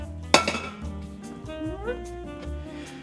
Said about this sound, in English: Now, once you have a pan, you gotta bring it to the stove.